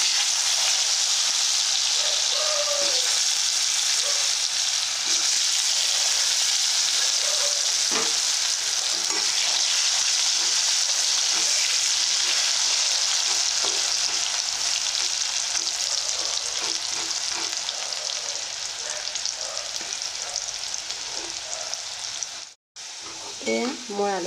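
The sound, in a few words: potato pieces frying in oil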